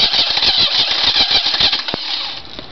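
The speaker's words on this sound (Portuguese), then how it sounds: "tenta dar a partida, não acelera" An engine cranks during a start attempt without throttle in a roadside breakdown diagnosis. The starter churns in a rapid, even pulsing rhythm, loud and close throughout, with no voice over it.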